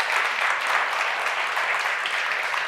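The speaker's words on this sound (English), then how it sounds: "Give them a huge round of applause" Applause for panelists after a talk on the visual effects of Stranger Things Season 5, a continuous wash of crowd clapping, loud and even across the whole short stretch, with no speech.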